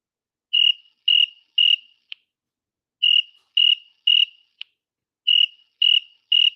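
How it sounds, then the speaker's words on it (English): Crickets chirping in three evenly spaced groups of three sharp, bright chirps, each group closed by a tiny click, set against complete silence. "All I hear is crickets."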